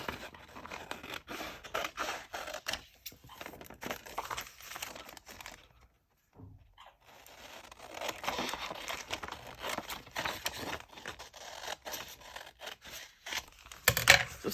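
Scissors cut through paper for a scrappy junk journal page, with soft repeated snips and crinkles close by, a brief pause midway, then more cutting.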